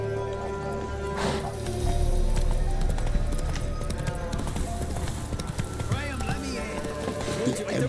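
Horse galloping in the video game Witcher 3 Wild Hunt, a loud steady clip-clop of hooves with a sharp burst partway in, under game dialogue.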